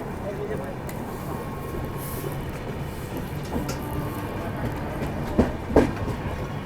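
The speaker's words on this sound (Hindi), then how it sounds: "तो अभी कल्याण जंक्शन से निकल रही है अपनी ट्रेन" Garib Rath Express train departing Kalyan Junction: a steady, moderately loud rolling rumble with clickety-clack of the wheels and a couple of brief sharp squeals near the end, with intermittent voices.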